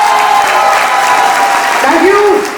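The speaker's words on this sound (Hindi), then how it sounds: "तो ठोक के दिखाओ ताली" An audience claps at a motivational mentoring session, a dense, sustained burst of applause that stays loud and steady, with a brief voice rising near the end.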